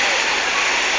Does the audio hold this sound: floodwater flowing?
yes